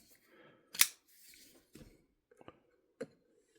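Scissors cut open a plastic action figure package from the bottom, giving a few short, sharp snips and crinkles spread apart with quiet gaps between them, close and fairly loud.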